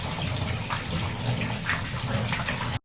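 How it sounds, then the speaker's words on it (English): Tap water runs steadily over salted cabbage being rinsed by hand, a continuous close splashing gush for about three seconds that stops abruptly. "Then rinse it with water again, so that again wash it, so that it will not start salty."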